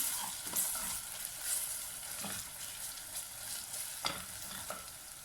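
Crushed ginger and garlic are stirred into onions frying in a pot, with a steady sizzle under scattered scraping spoon strokes, close and moderately quiet, no voices.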